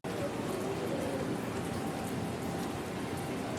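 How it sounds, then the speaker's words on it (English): Steady rain pours down around an outdoor patio on a tropical trip, a dense, continuous patter close by with no letup and no voices. "sitting on the patio with the rain falling"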